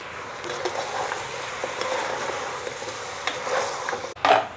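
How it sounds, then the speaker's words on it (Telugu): Goat head curry mixture with grated coconut being stirred in a pan, a steady close scraping and sizzling of the spoon through the oily mixture, with a louder clatter near the end. "చూసిరుగా మంచిగా కలుపుకోవాలి."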